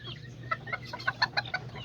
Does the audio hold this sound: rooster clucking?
yes